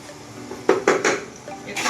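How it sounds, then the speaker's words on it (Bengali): Cabbage is stirred and mixed in a cooking pot for a Bengali fish-head dish, a quick run of several loud metallic clanks and scrapes from the spoon against the pot. "এবার বাঁধাকপিটা এক এক করে দিয়ে ভালো করে সবকিছু মিশিয়ে নেব।"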